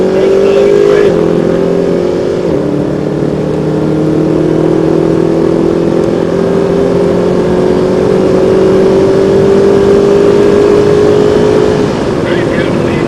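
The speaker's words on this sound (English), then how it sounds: "early on the throttle, and accelerating the car" A Mercedes-AMG car accelerates out of a curve on a race track, its engine note loud and rising in a long sustained pull, heard from inside the cabin with a faint voice underneath.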